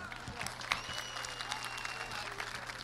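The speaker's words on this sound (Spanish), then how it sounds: "un aplauso, por supuesto." A small group claps in applause after a football match, light even clapping that carries on throughout at low volume, with some voices mixed in.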